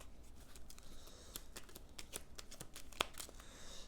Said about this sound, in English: Shuffle the intrigue cards.